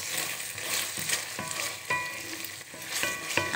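Sardines and egg fry in a pan with a steady broadband sizzle, punctuated by a few sharper scraping and stirring clicks, fairly close and alone with no voices.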